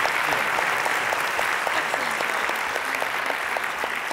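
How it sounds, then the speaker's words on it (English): Audience applauding a disability inclusion panel at a University of Michigan event, a steady dense wash of clapping hands that holds at an even level throughout with no talk over it. "let's give them another round of applause"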